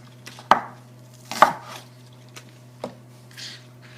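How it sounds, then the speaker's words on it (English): A knife chops green onions on a cutting board in a few sharp, separated strikes, some with a brief crunchy tail, then fainter taps, close and clear with no talking. "Okay, so I'm just going to chop up this onion."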